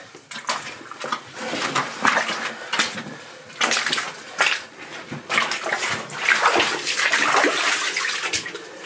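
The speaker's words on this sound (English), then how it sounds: "There's a bit of water here, actually." Water splashing and dripping at the bottom of a mine shaft, irregular close splashes and sloshing footsteps through water in a continuous busy stream, fairly loud.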